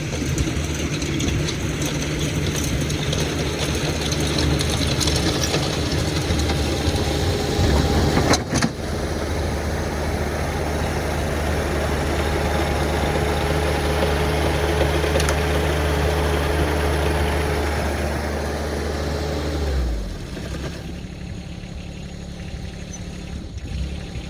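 A John Deere 47 snow blower running on a 4066 tractor, a loud steady low engine drone with a constant hum, one brief knock around the middle and a drop in pitch near the end.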